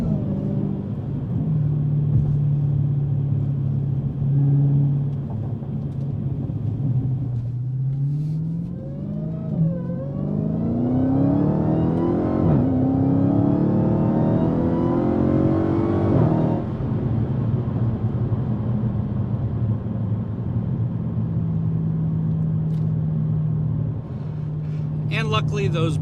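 A 2019 Dodge Challenger SRT Hellcat Redeye builds from a rumbling idle into a rising rev, its supercharger whine climbing in pitch before easing back, while someone talks over the engine.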